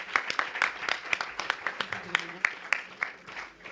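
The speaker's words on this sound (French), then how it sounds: "merci de l'applaudir" A small audience at a talk on home birth claps to welcome a midwife and author, a modest patter of individual claps with a voice murmuring alongside.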